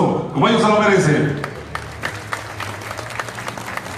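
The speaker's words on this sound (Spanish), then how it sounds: "Vamos a recibirlos con un fuerte aplauso" Crowd applause at a carnival in Huejotzingo greets a Mexican dance company, starting under a man's announcement and continuing as dense, steady clapping with scattered sharper claps after the voice stops.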